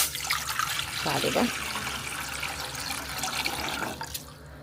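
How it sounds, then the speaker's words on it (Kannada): Water pours into a cooking pot in a home kitchen, a steady splashing trickle lasting a few seconds, close and moderately loud, with a brief spoken word over it. "ಫಸ್ಟ್ ನೀರು ಹಾಕೋಣ."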